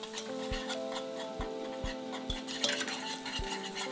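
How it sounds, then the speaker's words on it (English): Flour being lightly whisked into a stew mixture for Skybuilders' Stew, a soft steady stirring with a run of regular metallic clinks against the pot, close and fairly quiet with no talking. "you're gonna add flour, which you're gonna lightly whisk into the mixture"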